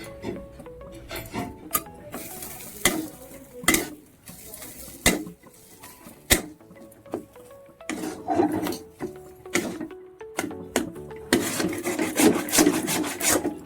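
A spatula scrapes and clinks against a pan (kadai) as dry-roasted cumin paste is mixed in for a green pea kachori filling. Repeated sharp scraping strokes come in an uneven rhythm, close and fairly loud.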